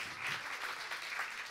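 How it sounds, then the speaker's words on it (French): Audience applause at a family and young children's church gathering, a dense, steady patter of many hands clapping at moderate volume for about a second and a half, with no one talking over it. "On l'applaudit."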